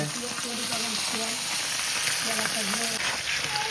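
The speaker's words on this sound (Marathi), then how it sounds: "चला मासे मस्तपैकी हे बघा असे फ्राय करायचे" Continuous crackling sizzle of masala-coated chadhniche fish frying on a hot griddle, with a voice talking faintly underneath.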